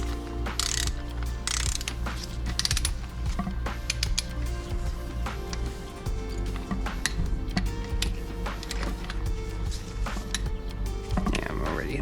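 Ratcheting clicks from a torque wrench set to 29 foot-pounds as it tightens bolts on the transmission shell of an NB Miata six-speed during a rebuild, a steady run of close mechanical ticks over a low workshop hum.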